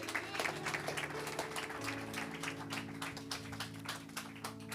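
A church congregation applauds after a cry to acclaim the Lord during a deliverance service, steady clapping and crowd noise sustained throughout, with music or a held organ-like tone underneath.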